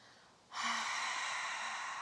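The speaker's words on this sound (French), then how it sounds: "tu peux utiliser la respiration de la buée, vraiment la bouche ouverte, glotte ouverte, comme si tu voulais faire de la buée sur un miroir" A single open-mouthed, open-throated exhale, like fogging a mirror, starts abruptly and continues as a steady, breathy, airy rush for about a second and a half.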